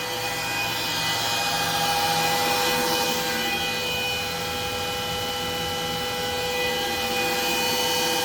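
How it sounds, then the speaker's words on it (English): A Bitmain cryptocurrency miner running on its November 2023 firmware gives a loud, steady fan roar with thin whining tones held throughout, unbroken and close by. "So the Jazz miner is sucking up some power."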